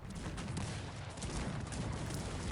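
Dense, rapid booming of cannon fire in the strategy game Cossacks 3, rolling blasts overlapping into a continuous loud barrage with no pauses.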